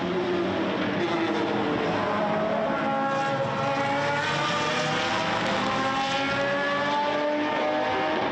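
Ferrari and Bentley supercars race at the Red Bull Ring, a continuous loud engine roar rising and falling in pitch as the cars pass, with several overlapping engines.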